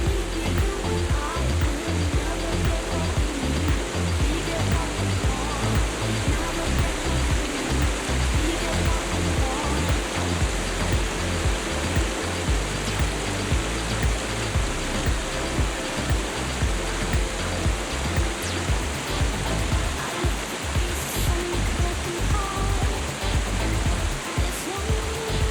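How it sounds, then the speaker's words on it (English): The Meeting of the Three Waters waterfall at the foot of the Three Sisters in Glencoe pours in a steady, loud, broadband rush that stays constant the whole time, with no one speaking. "We made a stop at the Meeting of the Three Waters waterfall."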